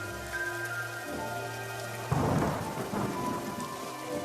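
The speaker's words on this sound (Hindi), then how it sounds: "इतना कहकर लखन उस तेज बारिश में घर के लिए चल पड़ता है।" Heavy cartoon rain hisses steadily, with a few tonal notes early on, before a loud thunderclap breaks in about halfway and rumbles away under the continuing downpour.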